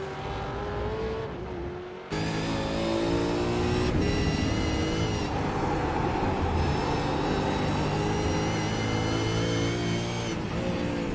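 A V8 Supercar at Road America screams through the kink at full throttle, a loud, sustained high-revving engine note with a gear change or two and steady roar throughout, heard without talk.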